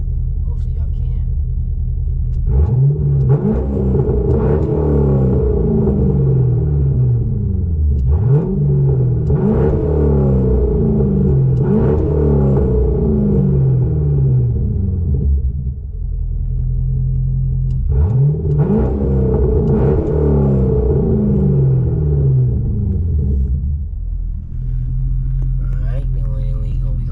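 A Chevrolet C6 Corvette engine rumbles at idle and revs up repeatedly in surging bursts, heard close from behind the car, with someone talking over it at times.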